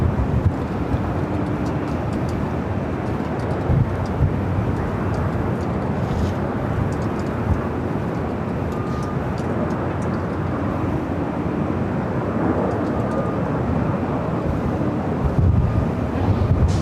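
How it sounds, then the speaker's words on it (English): An Emirates Airbus A380 airliner flies on approach at LAX, a steady, moderately loud engine rumble with wind buffeting the microphone throughout. "this is Emirates, the A380 Super, Flight 215, coming up from Dubai"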